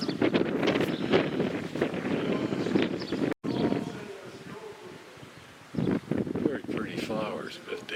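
Cold outdoor wind buffets the microphone on a walking tour beside a church garden in Riga, a steady low rumble with gusts running under continuous talk, briefly cutting out and dropping quieter before rising again.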